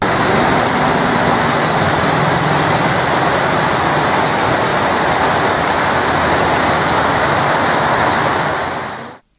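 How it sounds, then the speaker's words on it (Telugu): Heavy rain with hail pours down in Srikakulam district, a dense, steady roar of falling water and ice that stays loud and unbroken throughout before cutting off abruptly at the end. "అరేరేరే ఏం వానా ఏం వానా చూస్తున్నారా"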